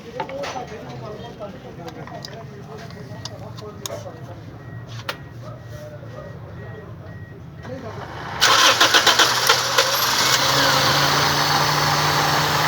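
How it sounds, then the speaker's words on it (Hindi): Toyota Corolla engine turning over after an ignition coil replacement, a steady mid-pitched idle hum that jumps sharply louder about two-thirds through and holds there as the engine catches. "तो फिर जी हमने गाड़ी स्टार्ट की है"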